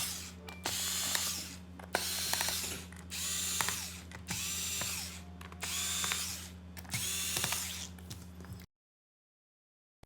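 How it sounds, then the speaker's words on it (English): A small electric screwdriver whirs in a series of short, even bursts as the bottom screws come out of a Dell 3100 laptop, each run separated by a brief pause, ending in silence. "First, let's start by taking the bottom screws out so we can take the bottom cover off."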